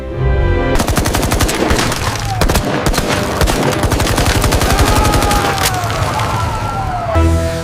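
Rapid bursts of automatic gunfire crackle continuously and loudly in a shootout between gunmen and police, with faint voices and a descending whine under the barrage.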